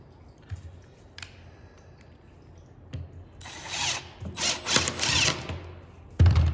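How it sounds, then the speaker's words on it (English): A power driver whirs in short bursts driving a screw into hardwood boards without pre-drilling, then grinds harder with creaking strain, ending in a sharp crack as the wood splits. "If you were to try to screw these two pieces together here without pre-drilling"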